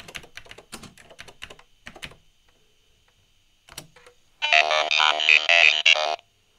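Close, crisp key presses on a BBC Master computer keyboard, with a quick burst of clicks, a pause and then a final keystroke, followed by a loud, buzzy synthesized speech-ROM voice.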